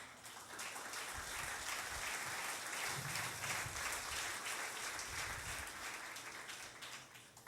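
A church congregation gives an offering of applause to the Lord, a broad, steady wash of clapping from many hands that fills the room at even strength throughout, with no voices standing out.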